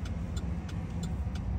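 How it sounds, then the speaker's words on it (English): Road traffic at night in Immokalee, Florida: a car engine rumbles low and close while tyre and wind noise wash past in steady waves, with no talking. "I can't believe how much traffic there is out here at night"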